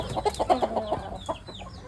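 Country chickens and a rooster clucking close by on a Tamil chicken farm, a quick run of short clucks and calls with fainter bird chirps behind.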